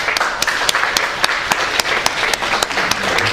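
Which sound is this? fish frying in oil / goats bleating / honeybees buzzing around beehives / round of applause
round of applause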